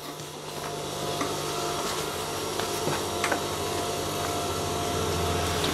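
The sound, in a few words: sewing machine stitching shorts fabric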